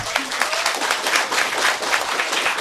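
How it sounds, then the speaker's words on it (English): Audience applause for the panelists at a foreign policy outlook forum, steady dense clapping from a crowd throughout, fairly loud and even, with a faint voice underneath. "Applause for the panelists."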